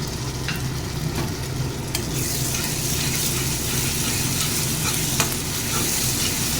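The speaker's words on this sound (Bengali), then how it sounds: "এটাকেও আবার একটু ভালো করে কষিয়ে নেব।" Ginger, garlic and green chili paste fries with onions for Bengali chicken kosha, a steady dense sizzle with scraping stirs and a few sharp clicks of the spatula, close and continuous with no talking.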